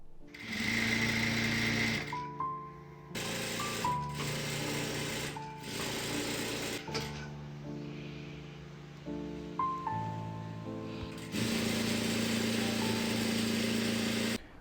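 Sewing machine gathering a fabric ruffle for a tablecloth, running in several long, loud, rapid rattling bursts separated by short pauses, close up with no talk over it.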